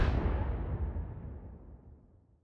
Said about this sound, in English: that is the sound of a new brute weapon in Halo Infinite called a skewer.